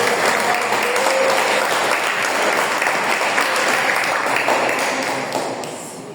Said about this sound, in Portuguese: Você pode aplaudir o nome dele nessa noite.